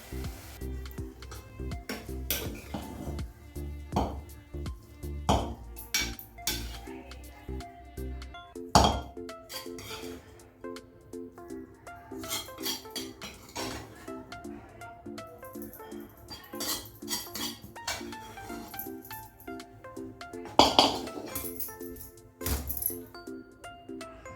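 Cooked bombil (Bombay duck) methi vegetable dish being spooned out of a pot into a serving dish: repeated metallic clinks and scrapes of a spoon against the vessel, irregular and close, with brief pauses between.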